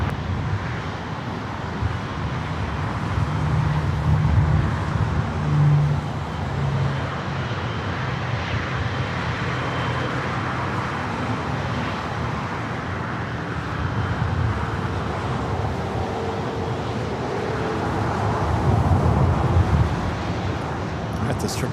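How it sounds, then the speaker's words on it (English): A Boeing 777-300ER bound for Paris lines up on runway 24 left at Los Angeles airport. Its jet engines give a continuous low, distant rumble and roar that swells toward the end, with faint voices at times. "This 777 at 300 ER heading back to Paris, lining up 24 left."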